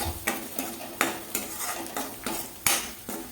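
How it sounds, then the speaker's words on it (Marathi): Coriander-cumin powder sautéed in a pan, with a spoon scraping and clinking against the metal in a quick, regular stirring rhythm over a soft sizzle. "आणि धने जिरे पूड आता परतून घेऊया व्यवस्थित"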